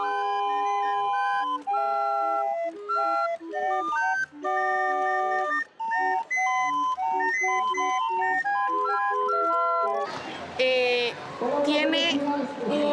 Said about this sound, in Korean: 오르간 소리가 분명한데 연주는 하지 않고 손잡이만 돌리고 있는 게 신기하다